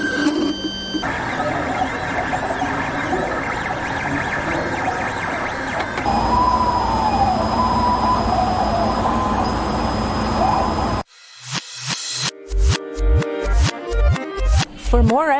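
Ambient sounds inside a Johnson County Library branch: a steady murmur of background activity and distant voices, a thin high tone, then a run of rhythmic clunking mechanical beats near the end.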